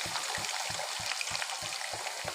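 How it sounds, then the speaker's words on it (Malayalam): Jackfruit pieces fry in hot oil for a crispy snack, a dense close sizzle with regular low thumps repeating about every third of a second, no voices. "ചൂടായ എണ്ണയിലേക്ക് നമ്മളെ ചക്ക ഇട്ട് ഒന്ന് ഫ്രൈ ചെയ്തെടുക്കാം"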